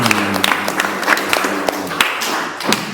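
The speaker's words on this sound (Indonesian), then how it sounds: "kita tepuk tangan dulu" A classroom of students in an Islamic religious lesson claps their hands briefly, a few seconds of uneven, moderately loud claps with distinct sharp hits scattered through.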